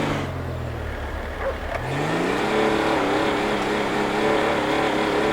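Old Toyota car with a V8 engine in GTA 5, idling low and then revving up into a steady, loud, mid-pitched drone that holds to the end, with no talking.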